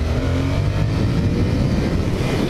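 A Yamaha MT-07 motorcycle accelerates in second gear on a dirty road in Thailand, its engine a loud, steady, close roar throughout with no talking.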